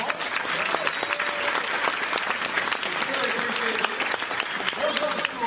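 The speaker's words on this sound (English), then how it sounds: "Y'all give them a round of applause." Applause from a political debate audience at a Coastal Carolina event, dense continuous clapping throughout with faint voices underneath.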